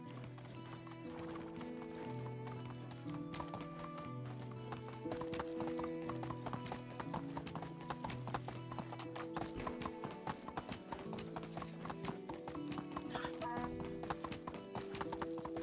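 Horse hooves galloping in the medieval video game Medieval Dynasty, a steady fast clip-clop with an occasional whinny over a background music score, close and continuous.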